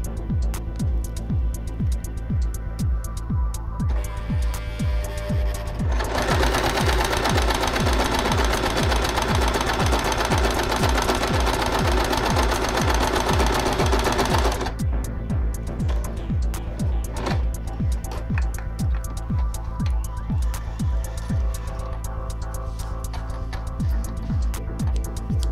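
A sewing machine runs a seam along fabric for a long stretch, its needle thumping in a fast, even rhythm. There is a louder, denser whir through the middle before it settles back to the plain stitching beat.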